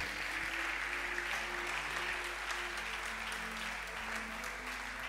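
A church congregation claps steadily and loudly throughout, a dense sustained applause with a low hum underneath.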